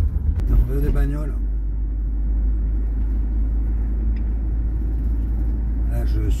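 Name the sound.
camper van driving on the road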